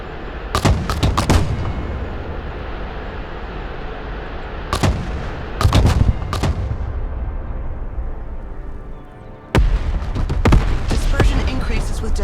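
Artillery firing during a NATO exercise in the Baltics: heavy booming rounds go off in uneven bursts, several close together, each a loud crack with a rumbling tail over continuous low battlefield noise.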